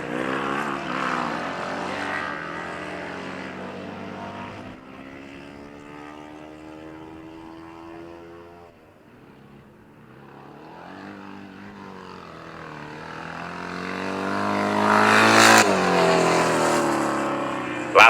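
Several 500cc Suzuki grasstrack racing motorcycles roar around a dirt oval, engine notes rising and falling as they pass, with a loud, close surge near the end; no talk.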